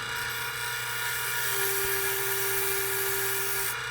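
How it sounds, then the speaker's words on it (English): A big 3/4 inch bowl gouge cuts wood on a lathe, making a continuous whirring, droning hum with a steady tonal whine, close and fairly loud, with no talk. "this is that big 3/4 inch bowl gouge, the wood beater from Carter & Son"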